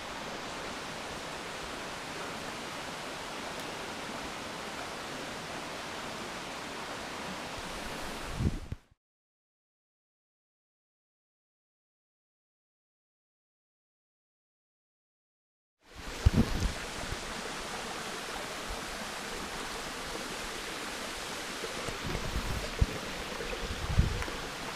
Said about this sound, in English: right below me is about a 30-foot fall